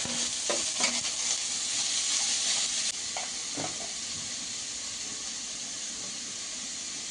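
Chopped banana flower hits a hot pan already holding popped mustard seeds, curry leaves and green chillies, setting off a loud, steady sizzle. A few scraping stirs sound early on, then the frying settles into an even hiss.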